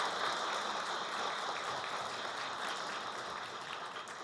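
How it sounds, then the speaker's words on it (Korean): An audience at a Seoul lecture on economic democracy gives Professor Jang Ha-sung a round of applause: a dense, steady wash of many hands clapping that holds evenly throughout, somewhat distant, with no voices on top. "장하성 교수님께 다시 한번 큰 감사의 박수 주시면 좋겠습니다."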